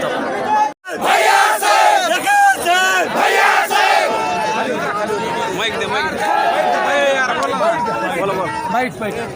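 A crowd of party workers cheers and roars loudly, celebrating NCP (Ajit Pawar faction) candidate Vijaysinh Pandit's assembly election win in Gevrai. Overlapping shouts and chants go on continuously, with excited chatter and voices mixed throughout.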